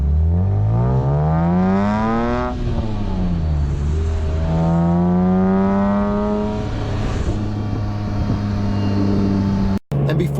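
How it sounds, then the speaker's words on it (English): A BMW E46 M3 with its S54 inline-six revving hard, several sweeping climbs and drops in pitch from a loud, close engine, then a sudden cut near the end. "Even if you don't like BMWs, you need to own an E46 M3 so you can experience the S54 engine."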